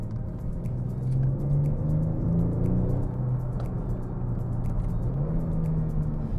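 A Kia Stinger's 370 cv V6 turbo in Sport Plus mode drones on a race track, a loud, steady engine note that rises and falls in pitch as the car accelerates and eases off.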